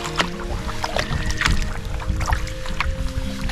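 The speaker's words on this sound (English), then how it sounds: "Takes away a lot of the finesse needed for solo canoe paddling." Solo canoe being paddled on a lake in northern Wisconsin just after ice-out, with close water swishes and paddle strokes over faint wind, while a person talks steadily over it.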